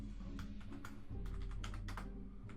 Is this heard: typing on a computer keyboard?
yes